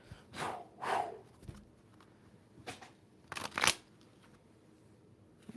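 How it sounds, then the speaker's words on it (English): A tarot card deck being shuffled up close: a few soft, papery riffling bursts separated by short pauses in a quiet room, with no one talking. "We're going to shuffle the deck."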